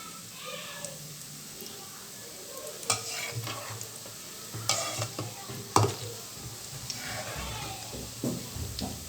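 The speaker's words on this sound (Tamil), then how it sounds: "இப்போ இதை நம்ம கிளறி விட்டு பார்க்கலாம் எப்படி இருக்குதுண்டு" A boondi mixture fries in a pan while it is stirred. Soft scraping strokes and irregular stirring clatter rise over a faint, steady sizzle.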